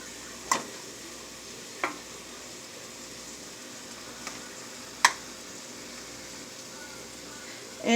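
Toasted rice frying in a pan for chicken fried rice, a soft steady sizzle with a few sharp scrapes and clinks of a utensil spaced seconds apart, fairly quiet throughout.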